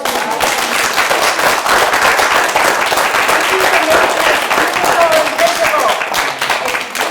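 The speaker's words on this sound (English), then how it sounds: "Can we just clap for Kaio and Jennifer?" Sustained applause from a crowd, dense clapping that stays loud and even for several seconds.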